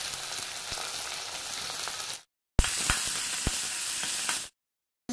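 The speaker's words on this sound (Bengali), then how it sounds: "এরপর কড়াইয়ের মধ্যে তেল দিয়ে দিয়েছি, তেলটা গরম হয়ে গেছে। 1 চামচ জিরে দিয়ে দিলাম। এরপর দিয়ে দিলাম পেঁয়াজ।" Chopped onions and cumin seeds frying in hot oil in a wok, a steady broadband sizzle that runs for about two seconds, drops out briefly, then resumes with a few sharp clinks before stopping; no voices.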